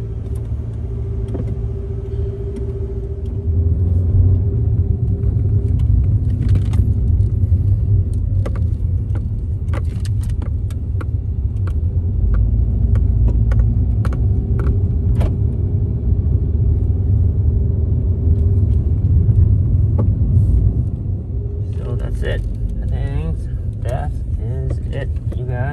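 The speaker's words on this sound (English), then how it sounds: "And we're gonna test drive it and" A Dodge Dart is test driven after a cylinder-one misfire code is cleared. A steady interior road rumble and engine drone continue throughout, with occasional light rattles and clicks.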